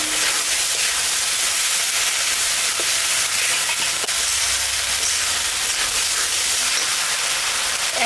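A ginger, cumin and dried chili paste sizzles steadily in a hot pan for a pangas fish curry, a close, even frying hiss that runs unbroken throughout with no talking.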